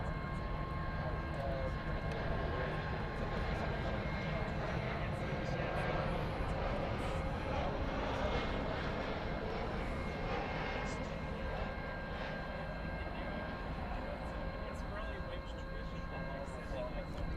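An American Airlines Boeing 737 Max 8 from Santa Ana, California arrives at DFW airport at night, its engines a loud, sustained roar throughout with people talking over it.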